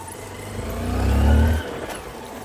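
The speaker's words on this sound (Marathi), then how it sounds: "तर मित्रांनो बघा गाडी इकडेच आलेली आहे." A car pulls up nearby on a rural outing to Gujarwadi, its engine note swelling to a low, loud rumble around the middle before easing off, with no voices over it.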